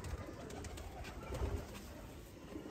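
Breeder pigeons coo softly in a loft, a faint low murmuring rising and falling with no voices over it.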